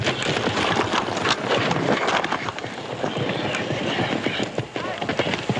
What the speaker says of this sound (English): They got a little old horse over there all ready for you.